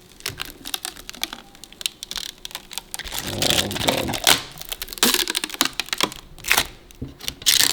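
A sticker is torn and peeled off the side panel of a budget PC case, giving crackly ripping and crinkling bursts with tapping handling noises, close and fairly loud, with no talk.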